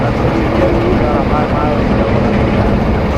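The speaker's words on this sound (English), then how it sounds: "So when you let off the gas, there's that little whirring noise" A 1940 Dodge WC 3500 4x4 with a 5.9 engine and a 10-blade turbo, whirring as the driver lets off the gas, a steady close drone of engine and turbo running throughout.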